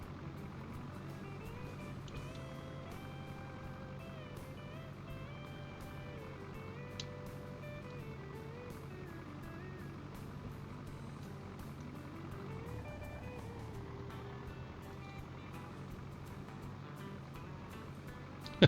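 Long-wheelbase truck with bad shocks and slick rock tires crawling over desert rock, its engine giving a continuous whine that rises and falls in pitch as it strains, steady and moderately quiet throughout.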